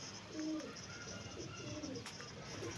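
Pigeons coo softly in low, repeated rolling calls as they land and settle at a loft, heard from a moderate distance over a steady outdoor background hiss.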